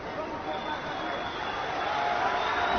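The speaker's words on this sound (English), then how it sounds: "Appreciative crowd for these two warriors as we hit the final minute of the fight." A crowd at an MMA fight gives a steady roar of cheering and noise that builds slightly, with no clear separate voices.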